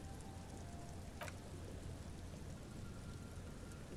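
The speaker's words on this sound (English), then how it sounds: "There are rain circles on water all around." Rain falling in the video game Disco Elysium, a soft, even patter of droplets on water with one brief sharp tick, faint and continuous throughout.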